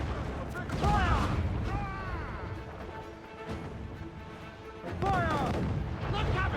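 Ship cannons firing in the pirate naval game Assassin's Creed IV: Black Flag, heavy booming blasts in bursts amid battle noise, with crew voices shouting over the gunfire.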